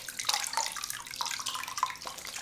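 A flannel dipped and swished through warm bath water while washing the face, producing continuous splashing, trickling and dripping, close and alone with no talking.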